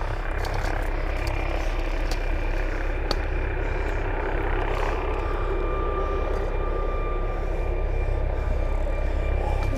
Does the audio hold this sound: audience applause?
no